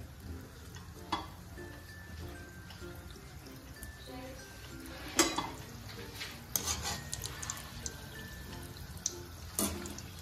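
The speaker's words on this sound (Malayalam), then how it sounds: "എണ്ണ ചൂടായിട്ടുണ്ട് നമുക്ക് ഓരോന്നോരോന്നായിട്ട് എണ്ണയിലേക്ക് ഇട്ട് കൊടുക്കാം ഇത് നന്നായിട്ട് ബ്രൗൺ കളർ ആകുന്ന വരെ ഫ്രൈ ചെയ്തെടുക്കണം" Bread-based gulab jamun balls fry in hot oil with a steady, close sizzle and bubbling, broken by occasional clinks and stirring knocks, and no one speaks.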